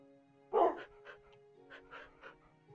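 Minecraft dogs give a handful of short, soft barks and yips in a quiet game scene, one louder bark followed by several fainter ones spaced out.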